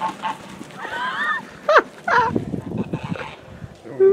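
Several geese honk in scattered, raspy calls at moderate distance on a Canadian homestead, with some quieter background noise between the honks.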